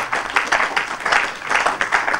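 An audience applauds steadily for a director general at a formal French-language ceremony, the clapping coming in rhythmic waves of moderate loudness with no voices over it.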